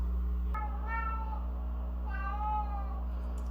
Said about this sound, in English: My cat is roaring in the background.